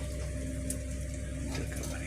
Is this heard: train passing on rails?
no